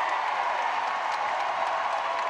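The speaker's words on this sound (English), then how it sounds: "Listen to this crowd in the Joel." Crowd in a basketball arena at a girls high school championship final, a steady dense roar of cheering and clapping, loud and even for the whole stretch.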